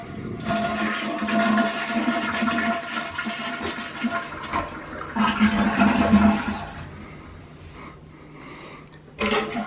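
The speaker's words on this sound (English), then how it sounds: "and we'll give it a flush" Household toilet flushed with its water supply shut off, a loud rushing gurgle of draining water that fades, then a brief burst of sound near the end.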